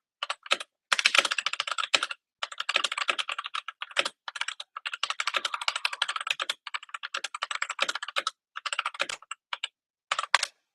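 Brisk keyboard typing in bursts with short pauses, close and clear, as a text message is written, with no talking.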